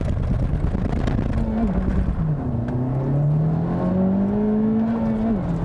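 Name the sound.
Honda Civic Type R launch with wheel hop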